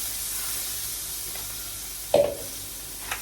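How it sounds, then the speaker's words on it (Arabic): A spoonful of crushed garlic mixture sautéing briefly in hot oil in a home kitchen: a steady soft sizzle that surges in a sharp, loud burst about two seconds in, then settles, with no talking. "بعد الزيت بتاعي ما سخن هاخد معلقه من الخليط بتاع الثوم او الدقه بتاعت الثوم، واديها تشويحه بسيطه قوي"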